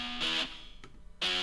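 An electric guitar with compression and gritty EQ, treated with a room reverb plugin in Logic Pro, plays two loud, bright struck chords separated by a short gap with a faint tap and a reverb tail between them.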